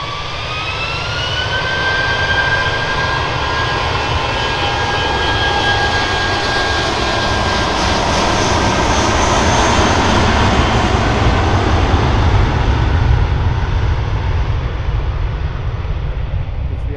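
Early-morning British Airways Airbus A320 jet taking off, a loud sustained engine roar with a whining tone that holds steady and slowly swells, heard from outside at a distance with no talk.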